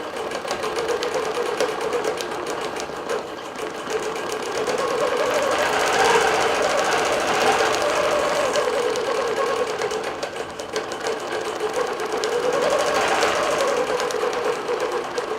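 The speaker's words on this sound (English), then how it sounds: "We're stitching with polysheen thread" A longarm digital quilting machine stitches with polysheen thread in a steady, fast mechanical whir and chatter, continuous and fairly close for the whole stretch with slight swells in intensity, no voices.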